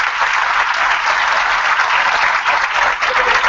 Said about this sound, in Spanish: Es un fuerte aplauso a Daniel Collado.